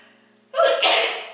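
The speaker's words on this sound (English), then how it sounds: "I'm going to sneeze any second" A single loud sneeze bursts out after a brief quiet moment, close and breathy, trailing off into a soft exhale.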